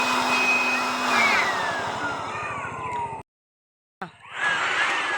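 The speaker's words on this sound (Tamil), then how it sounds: "இதாங்க வண்டி சுத்தம் பண்ணுற மிஷின்" A vehicle cleaning machine runs with a loud, steady motor whine and gliding pitch changes, then cuts out abruptly into a second of silence before the whir starts up again.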